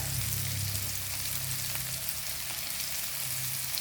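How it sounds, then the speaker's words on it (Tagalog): Fish frying and sizzling in a pan as it is sautéed, a steady close crackle of hot oil throughout with no talking. "Unya nagisa na siya guys ang lamas, ibutang ang pinirito."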